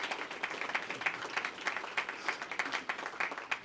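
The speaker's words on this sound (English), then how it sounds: "Let's give a round of applause for him" Applause from an audience at a police awards ceremony, a moderate-sized crowd clapping with distinct individual claps, fairly close and steady for a few seconds with no speech.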